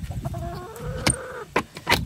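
Chickens clucking nearby: several short, throaty clucks and warbling calls in an uneven pattern, with a few sharper sounds mixed in.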